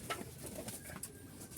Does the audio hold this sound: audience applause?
no